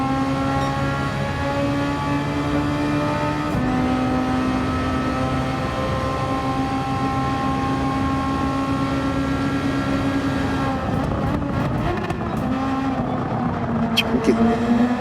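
A Super Formula race car roars steadily around Suzuka in Gran Turismo 7, a sustained high engine drone with shifting pitch and a gear change partway through, while someone talks over it at times.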